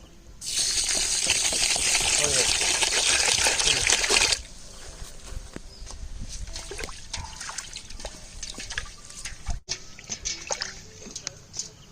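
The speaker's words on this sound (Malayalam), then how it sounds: "അടുത്ത ബിരിയാണിക്കുള്ള റൈസ് കഴുകാനാണ് പോകുന്നത്." Loud running water pours into a vessel for a few seconds, then rice grains for biryani swish, rattle and trickle as they are rubbed and rinsed by hand.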